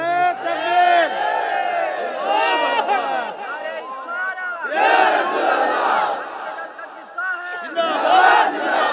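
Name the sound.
crowd loudly shouting takbir (Allahu Akbar) at a religious gathering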